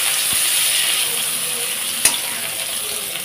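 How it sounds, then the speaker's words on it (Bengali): Pointed gourd (potol) fries in hot oil with a steady, hissing sizzle, close and fairly loud, broken by a single sharp clink of a utensil; there is no talk. "তো এখানে আমি অল্প একটু লবণ দিয়ে দিচ্ছি, ভালো করে পটলটাকে ভেজে নেব।"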